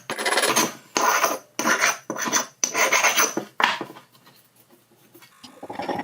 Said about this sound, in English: I need to clear up this paint to make sure I have a good contact